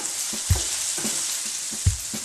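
Ginger and garlic sizzle in hot oil in a pan, a steady loud frying hiss broken by a couple of dull thumps as the pieces are stirred.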